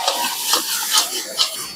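Grated coconut tipped into a hot pan for a coconut and nut sweet, sizzling steadily with a few louder stirring scrapes, close and fairly loud with no talk.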